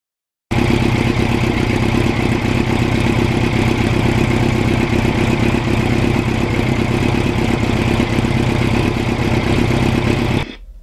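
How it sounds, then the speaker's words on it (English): A 1989 Kawasaki GPX750R motorcycle engine fitted with a Norton muffler runs steadily and loudly close by, a continuous throaty drone that holds its level for about ten seconds before cutting off abruptly. "this bike with the Norton muffler is great sounding"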